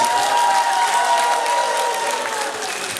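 Sustained, dense applause from a crowd at a school graduation party, loud and steady throughout, with a slight fade toward the end.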